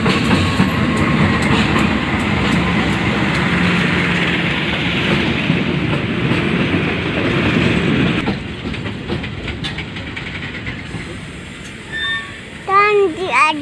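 A train pulls out of Walantaka railway station, a loud rumble and clatter of wheels on rails for about eight seconds before fading, followed by quieter ambience with a child and adults chattering and squealing near the end.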